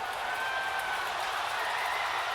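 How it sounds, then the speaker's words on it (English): Stadium crowd at an Astros versus Red Sox baseball game roaring steadily after the Astros' first run scores, a dense sustained wash of cheering with no individual voices standing out. "And the crowd goes nuts."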